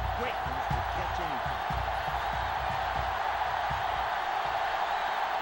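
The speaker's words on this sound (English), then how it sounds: "Crowd's popping." Loud, steady roar of a stadium crowd cheering in the NCAA Football 2005 video game on PS2, during Tennessee at Penn State, with a voice talking over it throughout.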